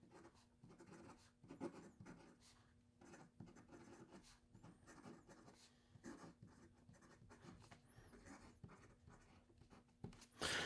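A Leonardo Mosaico fountain pen with a flex nib scratches across paper in close, quiet strokes, irregular bursts of scratchy writing separated by short pauses, with a faint steady hum beneath.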